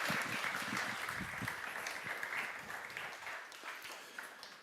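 A seated audience gives warm applause to a speaker. The clapping is moderately loud and dense at first, then slowly thins and fades toward the end.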